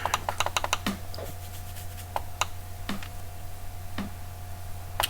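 Keys on a computer keyboard clatter in a quick burst of taps, then sparse, separate clicks follow over a steady low hum, close and fairly quiet, while tuning a Holley EFI system.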